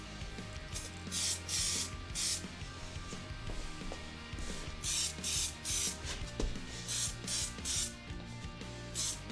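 A spray paint can hisses in repeated short bursts over a car's gauge pod, close and loud, with brief gaps between sprays and some light handling noise underneath.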